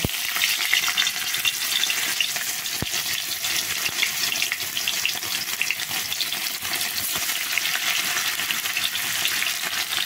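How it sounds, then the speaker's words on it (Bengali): Paneer cubes fry in refined white oil in a wok, giving a steady, dense sizzle and crackle that runs unbroken throughout, with a few brief clicks and no talking. "পনিরগুলোকে হালকা করে একটু ভেজে নেব"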